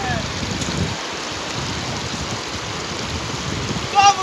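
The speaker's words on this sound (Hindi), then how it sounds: "तो पानी का बहुत आवाज आ रहा है" Loud, fast river water rushing steadily in a constant hiss and roar, dense and close, with no pauses and no clear speech over it.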